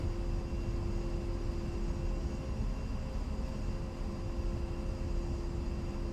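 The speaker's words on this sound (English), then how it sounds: "Did all that while landing a plane" Steady, loud engine roar of an A-10C jet landing in the DCS flight simulator, a continuous broadband drone with a sustained tone running through it for several seconds, no speech.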